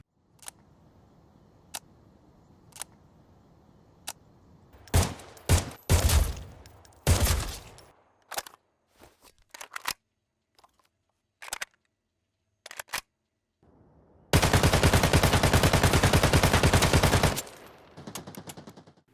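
AKM rifle firing in the shooter game Arena Breakout Infinite: scattered single shots and short bursts give way to a loud sustained full-auto burst of about three seconds, then a faint tail, with no talking.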